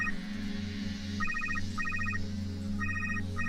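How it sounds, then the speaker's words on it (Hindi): A mobile phone rings when called, its electronic ringtone sounding in repeated short bursts of beeping tones over a low background hum, fairly close and clear, with no talking. "रुको, मैं फोन लगाती हूँ।"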